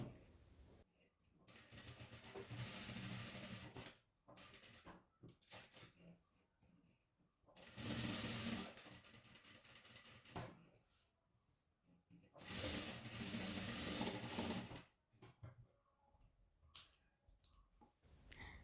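A sewing machine stitches the lined neckline of a crop top with a half-inch seam allowance, running in three rapid, buzzing bursts of a few seconds each separated by quiet pauses.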